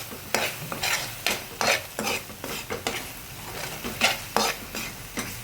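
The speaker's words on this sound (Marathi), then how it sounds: "हा छान परतून घेऊया." A black masala and byadgi chilli powder spice mix is stirred and sautéed in a pan, a spoon scraping in regular repeated strokes over a steady soft sizzle, close and alone.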